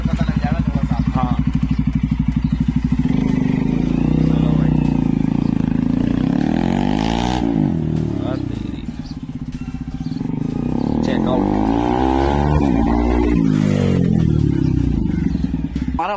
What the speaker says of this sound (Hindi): अब स्टार्ट करके दिखाता हूँ आपको, ठीक है, सामने से लेके आता हूँ, साउंड पता लग जाएगा थोड़ा सा।